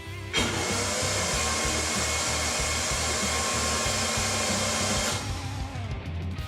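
A strong, steady rush of compressed air blows continuously through a turbocharger on a Ford 300 4.9L engine for about five seconds, loud and close, then cuts off abruptly.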